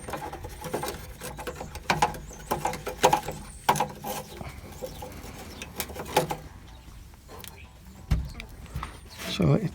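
Clamp nuts on a car's exhaust bracket are tightened with a wrench, making quick ratcheting clicks in short bursts while someone talks over them.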